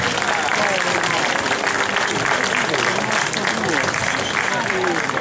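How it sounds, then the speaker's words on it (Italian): A loud audience applauds Stefano at the Rotonda 2012 final award ceremony, steady dense clapping from many hands that holds at full strength throughout. "Grande applauso a Stefano."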